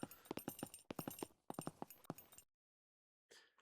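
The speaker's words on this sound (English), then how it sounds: "The horse sounds are satisfying" Horse hooves clip-clop in a video game, quick rhythmic bursts of hoofbeats in two runs, then a pause and a brief return.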